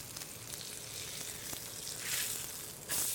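Ribeye steak sizzling as it sautés in a hot pan, a steady close crackling hiss of frying fat that swells louder toward the end, with no voices.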